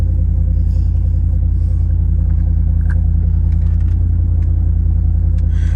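A 2007 Mercedes SL550 engine idles with a deep, steady, throaty rumble, loud and close, with faint clinks and shuffling in the background.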